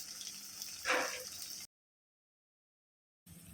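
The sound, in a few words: cooking water from boiled lima beans poured into pan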